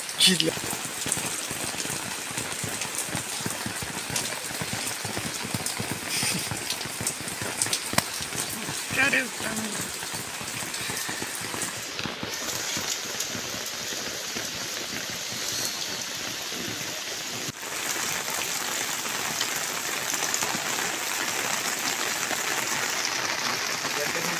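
Steady rain falling outdoors in a city, a dense continuous hiss of drops on surfaces that holds at an even level throughout, with no clear talk over it.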